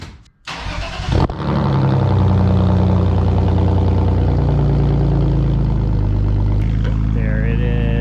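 A BMW engine cranks briefly, catches and fires up, then settles into a steady, even idle that runs on loud and close.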